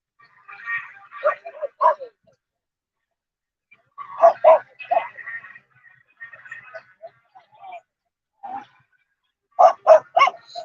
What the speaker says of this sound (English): Oh, somebody's got a dog loose over there.